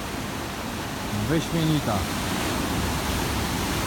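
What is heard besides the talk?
ocean waves on Phuket beach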